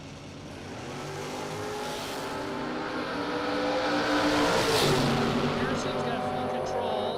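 Drag race cars, one a 1968 Chevy Camaro, roar down the strip in a sustained, swelling engine drone that peaks midway, heard under an announcer's steady commentary.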